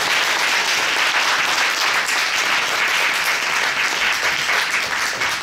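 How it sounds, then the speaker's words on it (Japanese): A large outdoor crowd at an autumn Kōenji Awa Odori festival in Tokyo breaks into loud, sustained applause after a dance troupe's performance, dense steady clapping filling the air throughout. "皆さん、もう一度大きな拍手をお願いします。"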